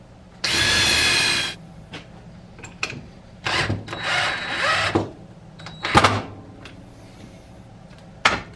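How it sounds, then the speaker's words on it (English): A power drill bores two plumb holes through a wooden block for a homemade roller cotton gin, a sustained grinding burst followed by shorter whirring runs and scattered knocks, close by with no talk. "drill plumb through it twice"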